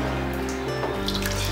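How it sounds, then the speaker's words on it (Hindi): Water poured from a tap over chhena, curdled milk being cooled for cham cham sweets, a short trickling and dripping flow close by with no talking. "छेना डालेंगे पानी ताकि ये ठंडा हो जाए।"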